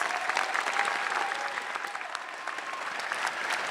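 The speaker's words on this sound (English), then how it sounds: "Let's give them another round of applause, the scholarship recipients." Applause for scholarship recipients rises from the audience at a community college high school equivalency graduation ceremony, a steady, dense clatter of many hands clapping throughout, moderately close and without pause.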